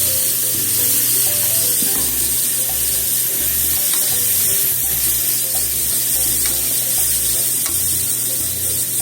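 Burdock root for kinpira gobo stir-fries in a pan, giving a loud, continuous sizzle with steady frying crackle and occasional clinks and scrapes as it is tossed.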